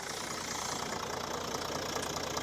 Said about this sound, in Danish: Og så skal du lige høre den her lille dieselrumlen, som er herinde i motorhjelmen.